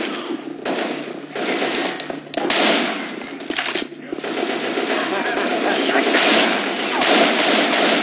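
Rapid bursts of gunfire in the video game Left 4 Dead 2, played on the Parish campaign's Quarter level, rattle loud and dense through the whole stretch, with brief pauses between volleys and no clear talk.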